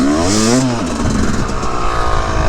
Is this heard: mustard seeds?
no